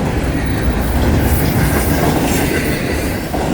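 An FECR train rolls past slowly near a maintenance crew, a loud, close, continuous rumble of rail cars with faint wheel clatter and light squeal throughout, no talking.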